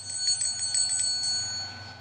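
A small bell rings softly, a light rapid series of high, gentle tings over a low steady hum, without talk.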